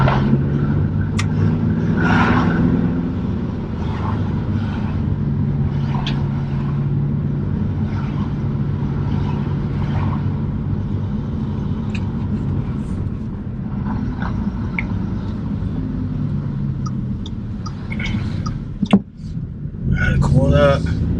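An Audi S3 drives with a steady low engine and road drone from inside the cabin, holding an even level throughout, with a few thumps near the end.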